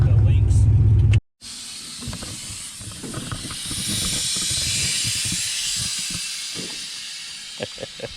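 A bagged street truck's air suspension airbags deflate with a long, loud, broad hiss that swells and holds for several seconds, following a brief heavy low rumble at the start.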